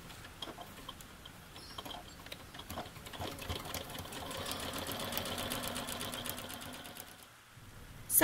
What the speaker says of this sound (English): Now I'm going to sew straight through my overlocking